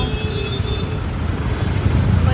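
Busy road traffic heard from a moving Activa scooter, a steady dense rumble of engines and road noise that holds throughout and swells slightly toward the end.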